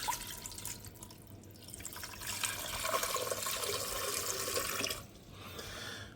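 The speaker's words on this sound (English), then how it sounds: "I am now going to add about the same amount of water to each." Water poured into glasses holding ice spheres, a continuous trickling splash that swells in the middle and then eases, with a faint background hum and no speech.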